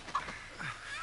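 Chickens clucking in the Texas Chainsaw Massacre video game, a brief faint cluck or two against low background game ambience.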